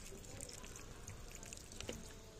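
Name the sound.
watering dry plant propagations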